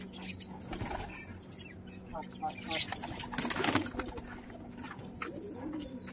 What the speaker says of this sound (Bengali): এটা হচ্ছে ফিমেল পায়রা,